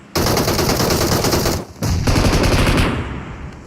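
Sustained automatic gunfire from a battle royale video game, dense loud bursts with a brief gap before the shooting resumes and then tails off; no grenade blast stands out.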